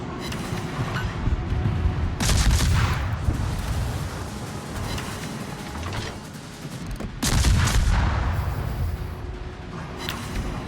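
Enemy ship guns fire in World of Warships: two heavy, booming naval salvos land several seconds apart, each followed by a long rumbling tail over a continuous low battle din.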